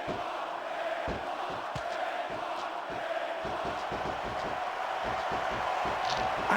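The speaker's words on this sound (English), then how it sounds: "I think these superstars are getting some feedback from the crowd, JR." Crowd noise from a WWE SmackDown vs Raw 2006 wrestling match, a steady roar of an arena audience with rhythmic chanting or clapping bursts, heard continuously at moderate distance.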